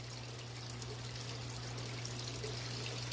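Aquarium water draining steadily during a water change, a continuous soft trickling and pouring wash over a low steady hum, with no talk.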